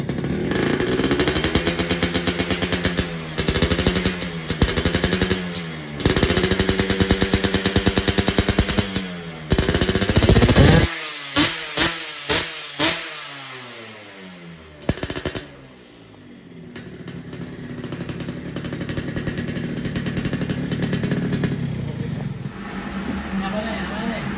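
A motorcycle fitted with an aftermarket exhaust and a baffle insert revs hard on a dyno, with loud, close, crackling bursts and rising and falling engine notes that then settle into a steadier, lower drone.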